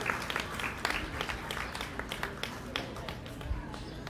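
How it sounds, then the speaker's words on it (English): Faint, scattered clapping from spectators at a county fair beef cattle show, thin and distant, with light individual claps popping out of a soft background murmur. "let's give these kids another big round of applause."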